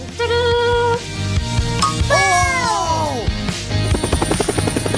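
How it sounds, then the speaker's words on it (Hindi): A small drone whirs over cartoon music and sound effects, its rapid buzzing pulses and a thin high whine steady near the end. "एक शानदार ड्रोन।"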